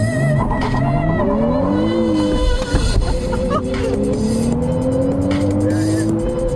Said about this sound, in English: let's try an acceleration from a stop with traction control off